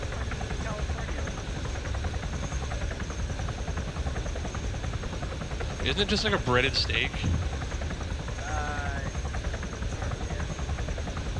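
A helicopter in the video game Arma 3 drones steadily throughout under people chatting, its rotor noise continuous and moderately loud with no clear change in distance.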